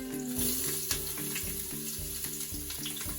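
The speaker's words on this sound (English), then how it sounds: "pour in the chilies. Ooh, that's sizzling." Chilies sizzle and crackle in a hot pan, a steady hiss with a low repeating mechanical hum underneath, close and moderately quiet.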